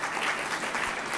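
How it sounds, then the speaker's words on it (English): A steady wash of applause fills a law school convocation hall in India, dense clapping from a large audience with no gaps. "Big round of applause to him."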